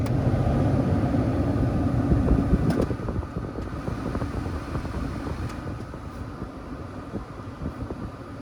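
A 1987 Lincoln Town Car's air conditioning runs with the compressor cycling: a steady whooshing blower rush over a low mechanical hum, louder for the first few seconds and then dropping to a softer, even level.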